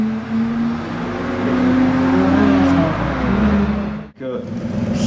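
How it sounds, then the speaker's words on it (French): Race cars at a Satigny run, a Mazda RX-8 with a rotary engine and a blue Chevrolet Camaro, roar loudly with sustained engine drone that rises and falls, then cuts briefly before resuming, while a commentator talks over it. "on va suivre bien la Mazda RX-8, la moteur rotatif de Alexandre Cid, face à Florian Casagrande"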